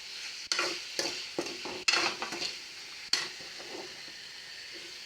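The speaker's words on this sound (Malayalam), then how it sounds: "കുറച്ച് സമയം നമുക്കിത് ലോ ഫ്ലെയിമിലിട്ട് ഒന്ന് വഴറ്റി എടുക്കാം" Tomatoes being sautéed for rasam in a pan over a low flame: a quiet sizzle runs underneath while a spoon scrapes and stirs in several short, sharp strokes, with a clink of metal against the pan.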